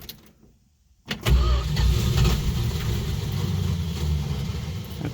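After a moment of near silence, a 1965 Plymouth Barracuda engine with a bypassed ballast resistor cranks and sputters, a loud, close rumbling churn that keeps going for several seconds as it tries to catch.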